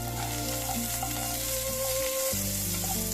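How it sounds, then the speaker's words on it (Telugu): Sliced onions and raw plantain fry in hot oil in a pan, a loud, continuous sizzle and crackle that holds steady throughout with no voices. "వేగాక కట్ చేసి పెట్టుకున్న ఆనియన్ వేద్దాం ఇందులో. ఇవి కూడా చక్కగా ఫ్రై అవ్వాలండి"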